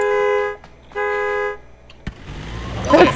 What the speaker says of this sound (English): car alarm's going on. That sounds exactly like a car alarm,